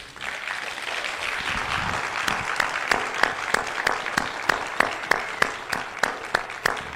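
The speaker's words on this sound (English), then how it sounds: "please give a loud round of applause and respect to Mutabaruka." An audience applauds a speaker being welcomed to the stage, dense clapping building quickly and then falling into a steady rhythmic beat of unison claps, clear and moderately close.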